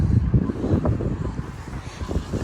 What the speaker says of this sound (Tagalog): medyo mahangin pa rin.